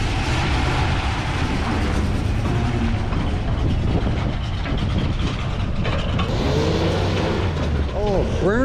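A restored Ford F250 crew cab truck drives along with a loud, continuous engine roar and road rumble close by, while people talk over it.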